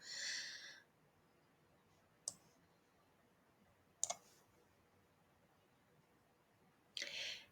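Computer mouse clicks while navigating Google Drive: a few sharp, isolated clicks spaced a second or two apart, close and quiet against near silence.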